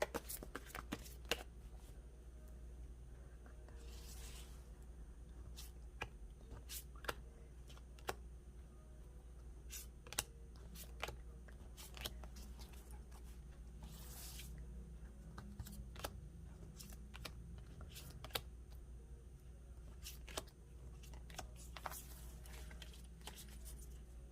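Tarot cards being shuffled and drawn in a quiet room, soft riffling with sharp card snaps and flicks scattered across a long stretch over a low steady hum, no talk.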